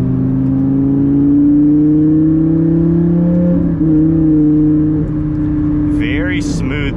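Lamborghini Gallardo V10 engine pulling hard under acceleration, a loud close droning tone that climbs steadily, dips briefly at a shift and builds again, with a voice speaking over it near the end.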